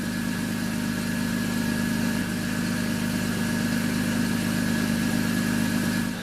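A combustion engine runs steadily at idle, a constant low hum with mechanical drone, holding even throughout without revving.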